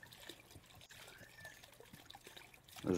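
A faint, continuous trickle of water flows from a broken faucet in the video game Crooked Man, with a louder bump near the end.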